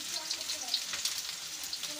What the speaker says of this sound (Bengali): চিকেনের বড়াটা ভাজছি, চিকেনটা দিয়েছি গরম তেলের মধ্যে